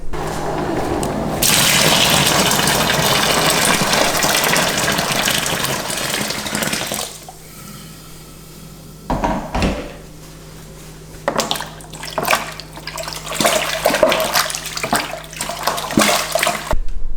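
Hot water from a kettle gushes steadily onto malt extract for a Coopers IPA home-brew kit, then gives way to quieter scrapes and clinks of stirring in the kitchen, with no talking.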